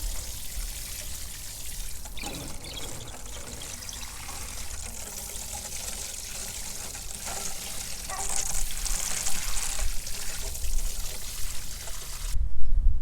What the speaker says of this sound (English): So I'm just going to give all of this a really good watering in.